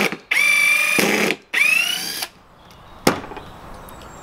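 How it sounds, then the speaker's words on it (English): A cordless 18-volt impact driver drives screws in two loud whirring bursts that rise in pitch, followed by a sharp click and a faint trailing rattle. "an impact driver is what you need to remove screws"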